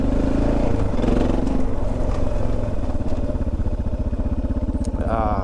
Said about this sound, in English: the main thing you want to hear is the bike